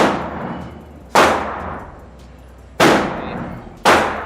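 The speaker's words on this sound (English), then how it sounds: "we're gonna shoot actually to see how this feels." Four loud, close gunshots from a Canik Mete MC9 pistol fired at a target 21 feet away, each a sharp crack with a short decaying tail, spaced unevenly about one to one and a half seconds apart.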